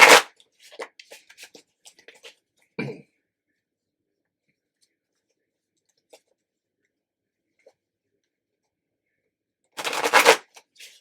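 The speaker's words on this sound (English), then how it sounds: "So we're going to shuffle the cards and do that." Tarot cards being shuffled in a brief burst of crisp riffling near the start, followed by a short card tap, then mostly quiet until a louder shuffle near the end.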